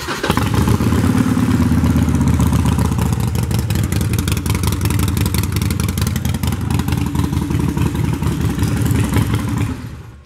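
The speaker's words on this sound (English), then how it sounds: "You're hearing those pipes indoors, so it's a bit louder than if you heard them outdoors" 2016 Harley-Davidson Sportster 48 (XL1200X) with Vance and Hines Short Shots pipes, idling loud and close indoors with a steady lumpy thump and clattering, easing off right at the end.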